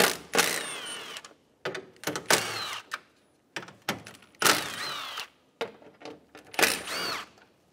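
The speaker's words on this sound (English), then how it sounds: "remove the four 10 millimeter bolts" Socket wrench ratcheting out 10 mm bumper bracket bolts on a 2012-2020 Chevrolet Sonic, a series of short close clicking bursts separated by brief pauses.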